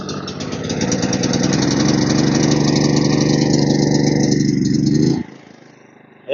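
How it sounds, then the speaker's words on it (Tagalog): Philking gasoline generator pulled to life by its recoil starter, then running at a steady loud idle with a rattly, knocking engine tone for about five seconds before cutting out abruptly; no talking. "hihilahin natin dito yung recoil starter"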